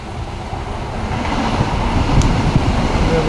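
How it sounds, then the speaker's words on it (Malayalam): A Vande Bharat Express bound for KSR Bangalore pulls into a station with a steady, broad rumble of wheels on rail that swells slightly as it nears, and a faint high squeal partway through. "KSR ബാംഗ്ലൂരിലേക്ക് പോകുന്ന നമ്മുടെ വന്ദേ ഭാരത് വരുന്നുണ്ടാവും."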